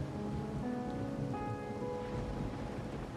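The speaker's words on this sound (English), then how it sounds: "Or are you simply passing the time until the rain ends?" Steady rain falls in the video game Wuthering Waves, a soft constant hiss of drops on surfaces, faint in the background, with some faint tonal game music over it and no talk.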